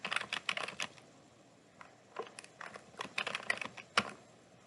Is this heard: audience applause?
no